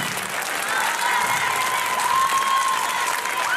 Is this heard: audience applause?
yes